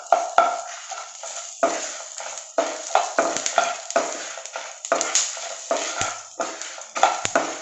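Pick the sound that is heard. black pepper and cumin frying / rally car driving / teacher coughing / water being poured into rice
black pepper and cumin frying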